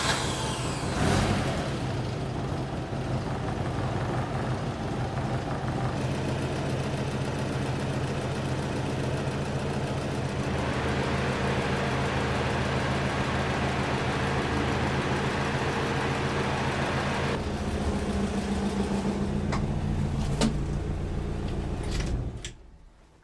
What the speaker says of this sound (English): So let's start the car and see.